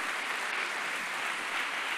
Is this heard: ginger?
no